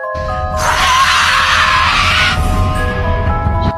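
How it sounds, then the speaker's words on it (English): A monster lets out a furious, shrill scream that rises sharply, holds for about two seconds over a steady background tone, then breaks off. "The monster let out a furious scream."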